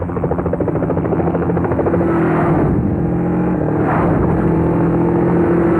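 Steady, loud helicopter rotor drone with a low pulsing beat, continuous throughout, mixed with a cinematic score in a Telugu film action scene.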